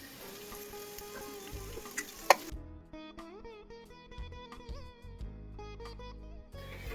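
Chicken frying in a pan with turmeric and salt for biryani, a steady close sizzle with stirring scrapes and one sharp clatter early on, no voices.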